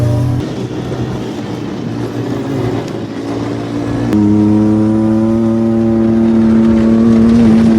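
An off-road four-seat RS car engine idles roughly and then revs up, holding a loud, steady, high-pitched roar close by with no talking.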